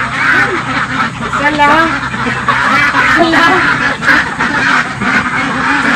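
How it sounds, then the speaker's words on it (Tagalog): Ducks quacking at a duck farm, a dense, continuous chorus of many birds close by, with people talking over and between the calls throughout. "Grabe naman yung mga itik mo."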